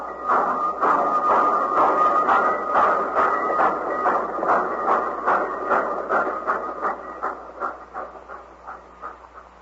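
A train rolls along the tracks with rapid rhythmic clickety-clack beats, loud and steady at first, then slowly fading.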